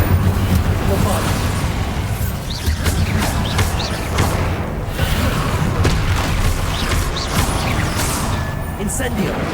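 Spell blasts and explosions from the Hogwarts Legacy video game, heard as a dense, continuous barrage of booms, bursts and crackling impacts that never lets up, with a voice talking throughout.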